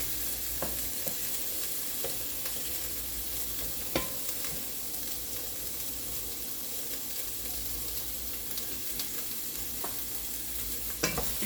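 Onions sizzle and fry steadily in cooking oil in a pot while being stirred, with scattered scraping clicks over a constant close hiss and no talk.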